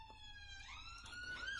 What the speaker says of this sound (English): Sorry about the sirens outside.